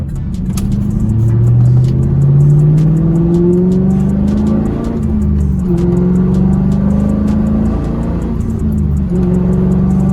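A 2000 Pontiac Trans Am with an LS1 V8 and manual gearbox accelerating at half throttle, heard from inside as a loud engine drone that rises in pitch, drops at a gear change, then climbs again.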